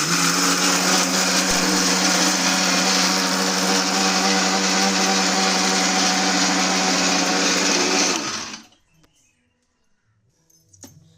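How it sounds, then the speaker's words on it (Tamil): A mixer grinder grinding roasted gram and sugar into powder whirs loudly and steadily for several seconds, then cuts off abruptly, leaving near silence with a few faint clicks. "பொட்டுக்கடலையும் சர்க்கரையும் அதாவது நல்லா பவுடர் மாதிரி அரைச்சி எடுத்துட்டோம் மிக்ஸி ஜாரில்"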